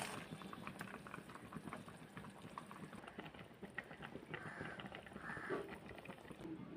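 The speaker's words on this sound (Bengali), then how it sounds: "আর তরকারিটা কিন্তু ভালোভাবে ফুটে গেছে" Curry simmers at a steady boil in a pot on a gas stove, giving a quiet, continuous bubbling and popping texture that stays faint and even throughout, with small clinks over it.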